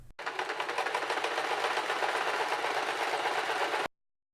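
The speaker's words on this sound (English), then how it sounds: "you can go ahead and stitch following that pin line." A sewing machine runs steadily, stitching a jeans leg along a pinned taper line during a clothing alteration, one continuous close whirring burst of about four seconds with no talk.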